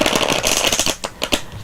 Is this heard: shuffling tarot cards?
yes